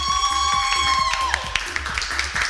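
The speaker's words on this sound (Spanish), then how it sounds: "Un súper aplauso para ustedes." Applause from a children's game-show audience celebrates the yellow team's weekly win: a scatter of sharp claps rising after a bright musical jingle, fairly close and moderately loud.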